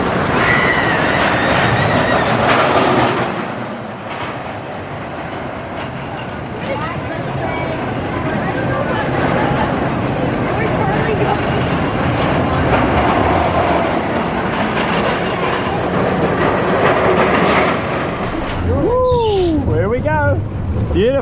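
A Schwarzkopf Jetstar roller coaster train runs along its track at Indiana Beach, giving a loud rolling rumble and rattling clatter that swells and fades, with people talking over it and high screeches near the end.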